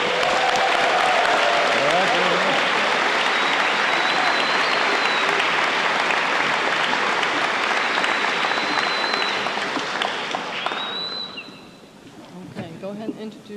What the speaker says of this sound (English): let's have a huge round of applause for our wonderful bill of speakers here tonight